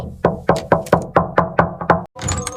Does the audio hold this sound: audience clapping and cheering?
no